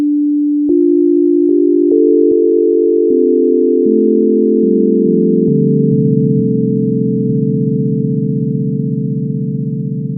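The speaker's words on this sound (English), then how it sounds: "We'll hear a sine wave like this." A steady additive-synthesizer sine tone sounds alone, stepping through a series of pitches, mostly descending, with small clicks at each change.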